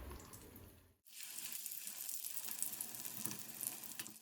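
Shami kebabs coated in egg frying in oil on a griddle, a soft, steady spitting sizzle that begins abruptly after a short pause and carries on with small pops; no talking.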